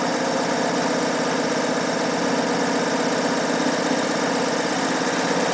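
A Bernina overlocker running at speed with 3 threads, serging the edge of a linen pillowcase: a loud, dense, steady mechanical whir with rapid stitching chatter, continuous throughout without pauses.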